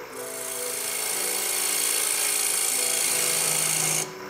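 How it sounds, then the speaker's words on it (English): A carbide scraper shears a dovetail tenon on spinning wood on a lathe, making a loud, continuous hissing rasp that holds steady for about four seconds and then stops suddenly. "using my scraper, my carp scraper, and um, making a dovetail"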